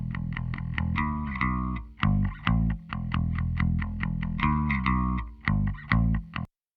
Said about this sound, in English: Okay, so bass guitar.